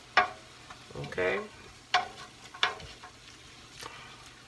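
Cabbage soup vegetables with minced garlic being stirred in a hot pan, giving a low sizzle under several sharp scrapes and clatters of the spoon, with a brief spoken word.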